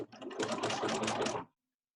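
A sewing machine runs in one steady burst for about a second and a half, stitching a quarter-inch seam through a fabric face mask with elastic held between the binding and the mask, then stops dead.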